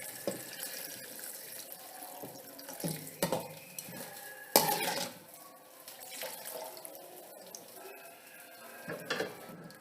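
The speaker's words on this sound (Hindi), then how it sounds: "पानी शामिल कर देंगे" Water is poured into a pan of softened vegetables for restaurant-style vegetable fried rice, a soft running splash with faint clinks of utensils and a few sharper knocks.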